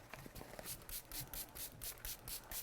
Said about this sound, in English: So I'm just going to give it a spritz with some water.